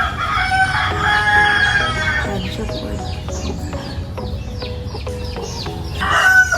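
Chickens cluck and a rooster crows nearby, loud and overlapping, with brief talk mixed in among the calls.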